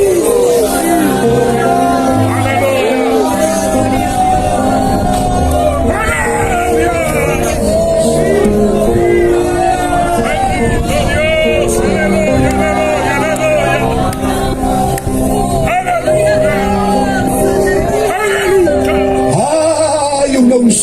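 A large congregation at a nighttime evangelistic campaign service shouts and cries out together, a loud continuous roar of many voices over music, with amplified preaching and babble throughout.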